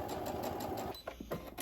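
A sewing machine stitches off the edge of fabric at a 45-degree angle to taper a corner on a heatless hair curler, running in a steady close mechanical rattle that slows into a few separate needle thumps.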